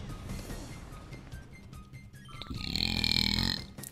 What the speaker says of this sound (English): Belch coming.